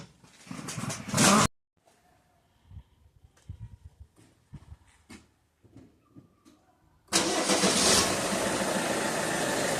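A car started and run after a repair: a brief loud engine burst, a quiet stretch of small clicks and knocks, then the engine catches and runs at a steady loud idle to the end.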